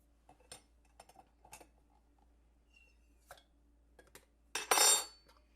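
A lid opener prying the lid off a pressure-canned jar in a kitchen: scattered small metal clicks and taps, then a sharp pop with a short hiss of released seal near the end, close and with no talk.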